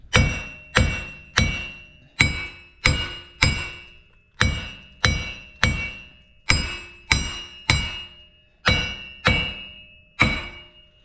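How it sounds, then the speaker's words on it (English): A sledgehammer strikes a lower ball joint stud on a 2015 Tahoe LTZ 4x4 front suspension, sixteen sharp metallic blows in a steady rhythm, each ringing briefly, loud and close. "then take the sledge and see it's starting to come back there"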